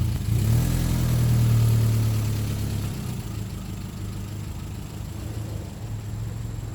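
An engine idles steadily after starting, a low, even rumble that is slightly louder at first and then settles into a smooth drone.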